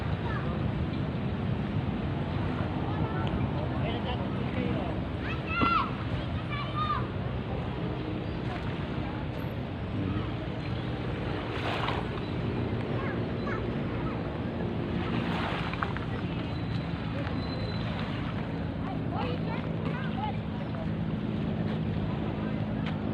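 Boats out on Manila Bay near the Manila Yacht Club amid a steady wash of waves and wind buffeting the microphone, with faint voices in the background.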